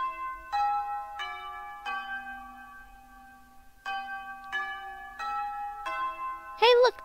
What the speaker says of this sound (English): Hey, look, it's the bell.